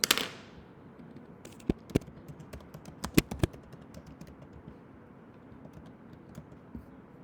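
Typing on a computer keyboard, a handful of sharp, close key taps in an uneven cluster, loudest in the middle, then fading into faint room noise.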